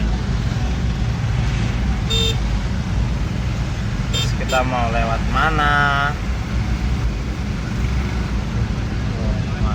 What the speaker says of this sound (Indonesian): Ini jantung ibu kota Jakarta guys. Macet, bener-bener macet ini, nggak gerak ini.